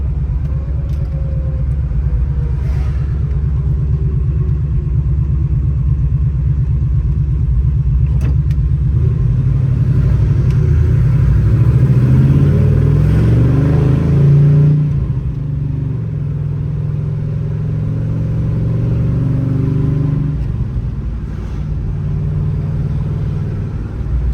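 Restored 1967 Chevrolet Impala on a road test drive, its engine rumbling loud and steady from inside the car, swelling as it accelerates midway and then settling back to a cruising drone.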